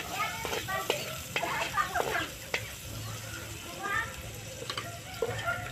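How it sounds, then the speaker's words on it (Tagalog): Chicken sautés in its own juices in a pan, a soft steady sizzle broken by scraping stirs and light clinks, with a faint voice in the background. "igisa yung manok sa sarili niya"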